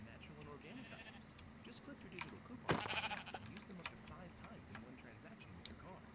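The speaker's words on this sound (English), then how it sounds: "Sheep." Sheep bleating inside a video game, a short bleat standing out amid continuous game sounds and background talk.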